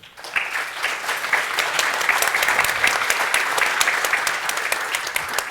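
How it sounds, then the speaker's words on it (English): Audience applause at an AlmaLinux Day Germany 2024 keynote, a loud, sustained burst of dense clapping from a crowd that swells quickly and holds steady. "if we can give them another round of applause"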